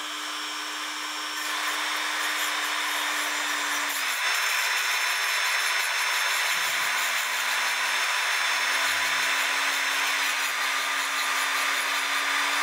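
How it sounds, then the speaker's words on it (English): A Dremel rotary tool fitted with a grinding stone tapers a small pin from a Dutch Sallander 8-day wall clock, producing a steady, close, high-pitched whine that runs unbroken throughout, with no talking. "But now I need to make this pen tapered. So I have my Dremel."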